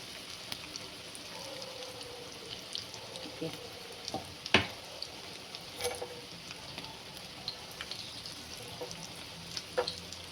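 Potato cutlets deep-frying in hot oil make a soft, steady bubbling sizzle with scattered crackles and pops. The sound stays fairly faint throughout.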